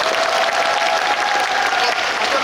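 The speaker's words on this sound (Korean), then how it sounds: "박수 부탁드릴게요." An audience claps throughout an open talk at the 2024 Busan International Film Festival: dense, sustained, loud applause from a large crowd, with faint voices beneath.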